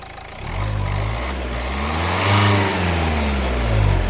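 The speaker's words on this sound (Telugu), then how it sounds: "ఇంజన్ యొక్క నాయిస్ చాలా అంటే చాలా సైలెంట్గా అయితే ఉందండి" A 2015 Renault Lodgy RXZ engine revs up and settles, rising in pitch twice with a steady low rumble underneath, close by and fairly loud, no voices.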